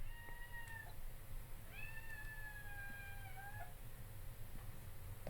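A kitten meows twice, a short call then a longer drawn-out one, fairly close over a steady low background hum.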